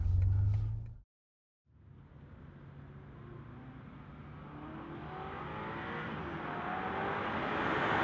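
A 2021 BMW M5 Competition accelerates hard after a brief gap, its engine note climbing steadily through the gears and growing louder from inside the car, with no talk.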